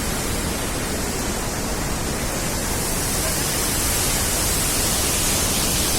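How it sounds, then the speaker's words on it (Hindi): Dhuandhar waterfall at Bhedaghat at night under floodlights, a dense, loud, unbroken roar of falling water with mist rising, steady throughout with no other sounds standing out. "तो धुआंधार फॉल आ चुका है, आपको दिखाते हैं।"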